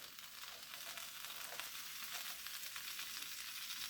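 Bacon and potatoes frying in grease in a pan, a soft, even, continuous sizzle with faint crackles, heard quietly and without talk.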